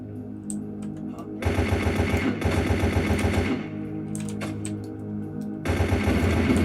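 AK rifle firing in bursts in the GameGuru MAX video game, loud rapid automatic fire in three long sustained volleys separated by brief pauses with scattered single shots and echo.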